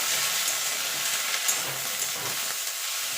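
Fried rohu fish being stirred in a pan with coriander leaves, ginger, garlic, cumin and chilli, giving an even, continuous hiss of frying with faint stirring scrapes and no talk.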